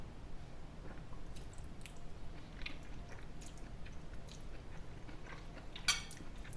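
Someone chewing konjac noodles stir-fried pad thai style, soft close-up squishy chewing sounds, quiet and continuous, with small wet clicks and one sharper tick near the end.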